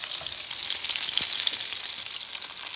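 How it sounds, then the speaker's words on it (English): Fatty ground beef fries in a pan for Italian wedding soup, a close, steady, dense sizzle with crackling spatters and no voices. "pretty fatty ground beef, so it'll be a lot fat. Some of it will come out while we're frying it."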